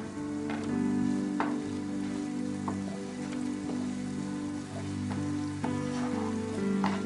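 Onions and garlic fry in a pan as the base for Persian ghormeh sabzi, a continuous crackling sizzle with scattered pops under steady background music.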